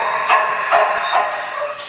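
Several dogs at an animal shelter bark and yip in quick repeated bursts, loud and close, over a continuous din of more barking in the background.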